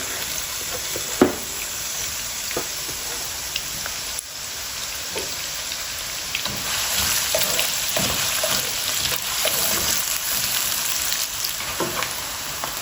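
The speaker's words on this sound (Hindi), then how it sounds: "अब प्याज डाल देंगे" Onions sizzle and fry steadily in a hot pan while karela dal is being cooked, with a continuous broadband crackle and occasional louder pops and stirring clicks, close and without talk.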